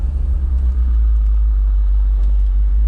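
A 1989 Jeep Grand Wagoneer fitted with a 727 TorqueFlite transmission drives along, its low, steady engine rumble filling the space close by, with no other sounds on top.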